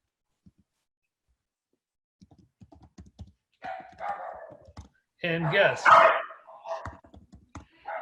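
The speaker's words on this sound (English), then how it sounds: "You probably hear my dogs in the background." Several dogs bark intermittently in a home during an online call, loud bursts in the middle and softer ones toward the end, mixed with close talking and some keyboard typing.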